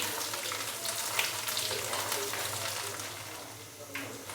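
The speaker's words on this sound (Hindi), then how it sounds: "अदरक और लहसुन के पेस्ट को अच्छे से हमने मिक्स कर लिया है। हल्का से इसको फ्राई करेंगे।" Ginger garlic paste frying in a pan during vegetable pulao cooking, a faint steady sizzle with soft crackles and occasional stirring scrapes, low and continuous.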